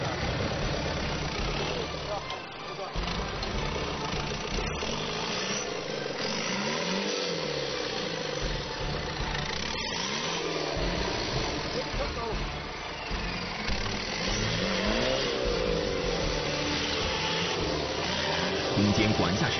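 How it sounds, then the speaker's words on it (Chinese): A new rainforest off-road race car with long-travel suspension and a tube-frame body revs and churns as it drives through a deep ditch, a steady engine drone under continuous narration. "同样的深沟，新型雨林赛车能有怎样的表现？"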